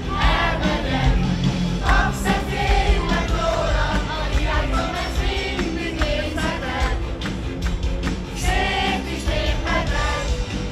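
Crowd at a band concert singing along: loud, dense mass of voices with shouts and cheers over live music, sustained throughout.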